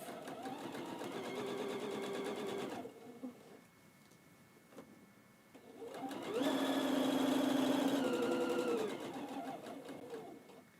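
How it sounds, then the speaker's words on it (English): A sewing machine stitches quilt pieces in two close, steady whirring runs separated by a short pause, with faint background voice. "I'm going to go over here and sew these last pieces"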